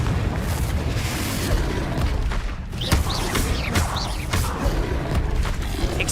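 Confringo spell explosions in the Hogwarts Legacy video game, several booming bursts with sharp crackling transients over a dense, loud rumbling battle bed that never lets up.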